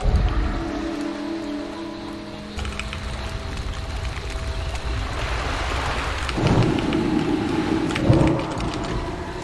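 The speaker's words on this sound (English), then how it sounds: "Little thunderstorm rain ambience, some swamp ambience." Thunderstorm and rain ambience in a swamp area of a fantasy role-playing game: steady rainfall hiss with rolling thunder rumbles building in the second half, heavier crashes near the end, no talking.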